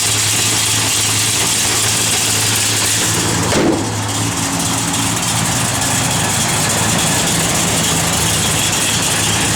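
1966 Plymouth Satellite convertible engine idling with a lumpy cam, a loud, steady, throaty rumble close by that continues without a break.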